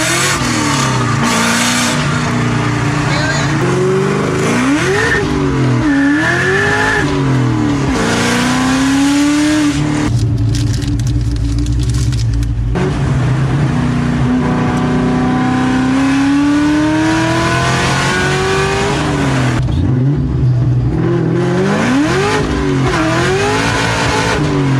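A cammed SVT Cobra Terminator making about 500 wheel horsepower accelerates hard. The engine revs climb loud and close through the gears, with brief lifts at each shift before pulling again.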